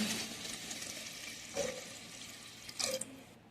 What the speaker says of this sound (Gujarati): બે લોટા નાખી દઈએ આમાં પાણી